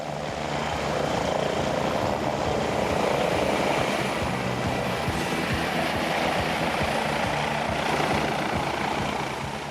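A helicopter's rotor blades thump steadily with a loud engine roar, close and continuous throughout.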